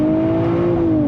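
A Nissan Nismo on Bridgestone Potenza Sport all-season tires pulls hard in second gear, a loud, close, steady engine drone with a smooth rising tone and no breaks.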